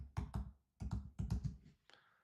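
Clattering bursts of computer keyboard typing come in short uneven clusters with brief pauses between, close and moderately loud, with no voices.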